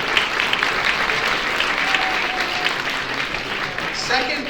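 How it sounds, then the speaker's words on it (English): Fundraising event crowd giving another round of applause, a broad, sustained clatter of many hands with faint voices and a few cheers mixed in, loud and continuous. "Give her another round of applause, please."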